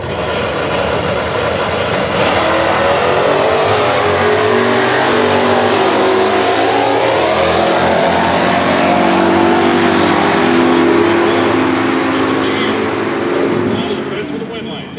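Big block, four-speed stock eliminator drag race cars roaring off the line at an NHRA Winternationals event, a loud sustained engine howl building and holding for the whole stretch, with an announcer talking over it.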